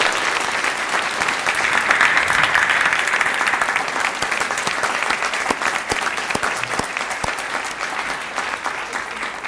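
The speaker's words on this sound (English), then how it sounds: "So would you please give them a big round of applause?" Panelists at a Bellingham City Club discussion receive a big round of applause, loud and close from a packed room, swelling early and then gradually thinning out as individual claps become distinct.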